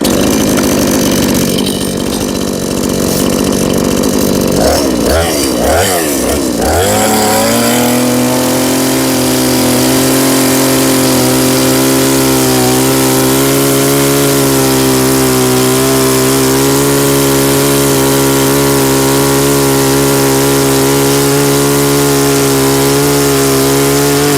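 Nearby YATO YT-84892 gasoline chainsaw sputters and revs as it starts, then settles into a loud, steady engine whine that runs unbroken to the end.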